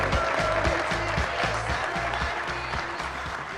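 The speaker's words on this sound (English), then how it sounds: "Let's give him a big round of applause, ladies and gentlemen." Steady applause from a crowd at a football press luncheon, dense clapping filling the room at a constant level from start to finish.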